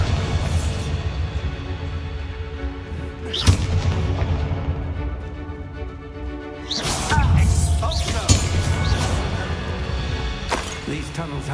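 Bombarda spell blasts in Hogwarts Legacy, deep booming explosions layered over dense battle noise and a dramatic score, with a few sharp impacts standing out against the constant din.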